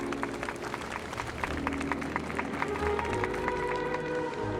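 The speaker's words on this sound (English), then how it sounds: "We invite you to express your warmest applause and deepest appreciation for OT Alfalfa, head." A crowd applauds steadily at a festival in the video game Honkai: Star Rail, dense clapping spread wide across a large space, with faint musical tones ringing underneath.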